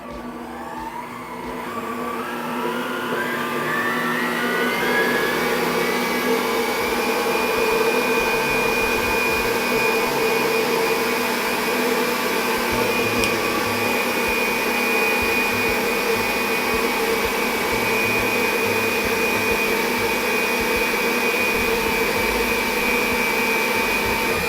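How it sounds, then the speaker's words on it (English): Waring mixers whip eggs while oil streams in to make mayonnaise, a loud, steady motorized whirr that ramps up at the start and then holds constant with a high whine throughout, no voices. "So now we'll start whipping the eggs and start the oil flow."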